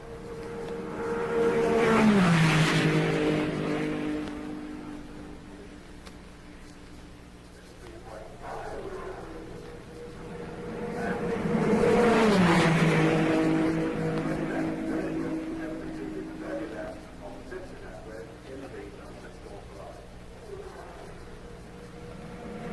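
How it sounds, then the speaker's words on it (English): A vintage Formula One Ferrari race car screams past twice at full speed, each pass swelling from distance to a loud peak and falling away in pitch, with a voice talking over the engine. "The Ferrari at full chat is an impressive sight."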